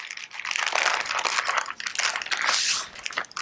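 A plastic gallon bag holding a London broil in marinade is sealed and pressed flat, close crinkling and crackling plastic in uneven bursts, with no talk.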